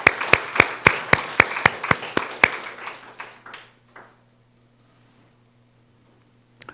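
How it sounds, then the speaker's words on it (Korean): A church congregation claps in unison, about ten sharp, evenly spaced claps that then break into scattered applause and fade to near silence with a low hum. "우리 그분에게 박수 한번 쳐드리죠"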